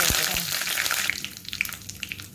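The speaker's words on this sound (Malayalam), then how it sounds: "വെളിച്ചെണ്ണ ചൂടായിട്ടുണ്ട് ഇതിലേക്ക് അര ടേബിൾ സ്പൂൺ കടുക് വന്നിട്ട് ഇട്ട് കൊടുത്തിങ്ങനെ കടുക് പൊട്ടി വന്നിട്ടുണ്ട്" Half a tablespoon of mustard seeds splutter in hot coconut oil for a curry tempering, giving a steady close sizzle broken by a few sharp pops and crackles over a short stretch.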